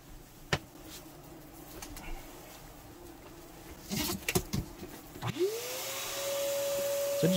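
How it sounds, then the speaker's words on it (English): Quiet bumps and scraping, then a vacuum motor whines up with a rising pitch and keeps running steadily, close by, sucking yellow jackets from a nest inside a cavity. "just vacuum out the last few that are up inside the cavity space"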